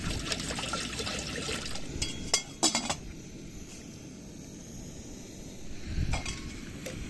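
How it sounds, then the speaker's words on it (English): Water pours and trickles into a cooking pan on a camping stove for vegetables, with faint clinks of metal or glass now and then over a low background rumble. "So, chuck some water in the pan."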